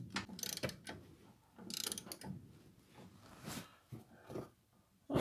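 Wrench ratcheting on a nut while installing a Bilstein 4600 Series shock on a Ford F-150, quiet irregular clicking bursts with handling noises, close and faint, no talking.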